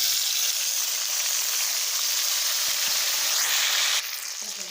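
Green chilies and tomatoes sizzle in a pan of golden fried onions, a loud, steady frying hiss that drops suddenly near the end and continues more softly, with no talking.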